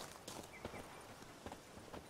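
Horse hooves clip-clop at a walking pace in The Witcher 3, a soft, uneven series of hoofbeats set at a moderate distance beneath a steady ambient game background.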